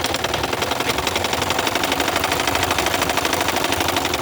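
A household sewing machine runs steadily after its thread tension has been tightened, stitching fabric with a fast, continuous mechanical whirr and rhythmic needle clatter throughout, close and loud with no talking.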